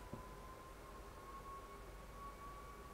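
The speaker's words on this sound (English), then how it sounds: "I hear another siren." A siren wails far off, a thin sustained tone holding steady across the whole stretch, faint beneath a low background hum.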